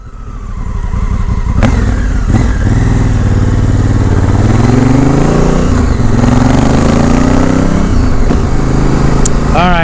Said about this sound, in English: So let's get the bike off the rack, take it for a ride, make sure the foot controls feel good.